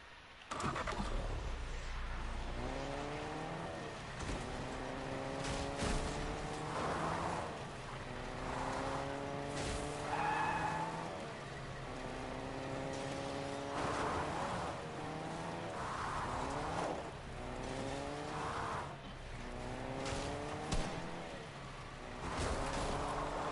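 A video game car engine drones continuously with repeated rising revs as gears shift, tyres squealing at intervals, heard at moderate level without pause throughout.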